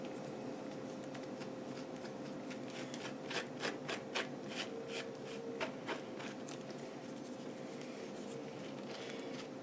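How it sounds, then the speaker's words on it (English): A spoon scrapes the gills out of mushroom caps in quick close rasping strokes, a rapid burst of scratchy scrapes in the middle over a quiet steady background hum. "You want to try to remove as much of the gills as you can without getting too much of the mushroom flesh."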